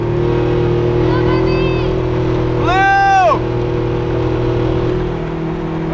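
A car drives with a steady loud engine drone underneath, and a brief rising-and-falling whine passes through the middle.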